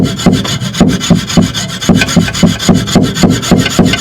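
A regular hacksaw blade cuts cast iron pipe by hand, loud and close, in even back-and-forth rasping strokes at a steady brisk rhythm.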